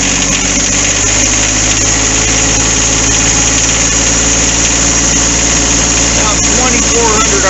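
A John Deere 4x4 tractor engine runs loud and steady at high revs near 2,400 RPM, a dense continuous drone with vibration throughout, while someone talks over it.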